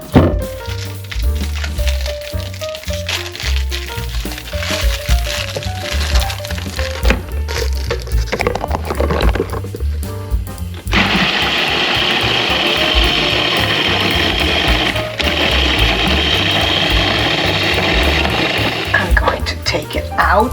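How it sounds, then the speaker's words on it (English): Food processor crushing gluten-free graham crackers for a cheesecake crust, first a loud crunching and rattling grind, then a steady high whirring as the crumbs spin, continuous and close throughout. "I bought some gluten-free graham crackers and I'm going to put them in the food processor"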